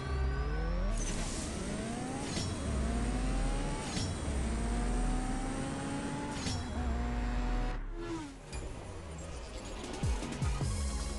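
Honda Varis race car in the mobile drag racing game CSR2, its engine revving hard and climbing through gear shifts with rising tones, loud and close throughout, with a brief dip near the end before it pulls again.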